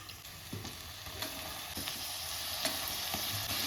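Moringa drumstick pieces sauté in a pan with turmeric and garam masala, giving a steady close sizzle broken by soft scraping stirs every half second or so, with no voices.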